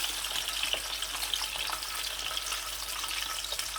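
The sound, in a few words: chicken leg pieces frying in a pan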